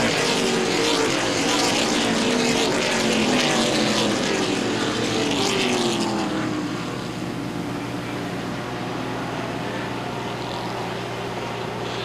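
Late model stock cars racing three wide at Baer Field Speedway, a loud, continuous roar of several engines that swells and then eases as the pack moves away, with no break in the noise.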